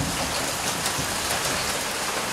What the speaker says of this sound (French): La pluie prend nous, surprend nous.